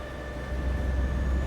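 A train passes in Euro Truck Simulator 2 during a DAF truck drive, a steady low rumbling roar with a faint constant tone above it, holding even and fairly loud throughout with no talk.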